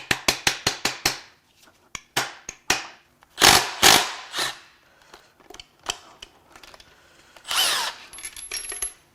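A hammer strikes parts of a junk BMW N63 twin-turbo V8 engine during a teardown: a quick run of sharp metallic blows, then scattered heavier hits with pauses between, close to the microphone.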